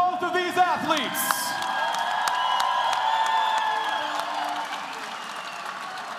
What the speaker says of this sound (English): a round of applause for both of these athletes.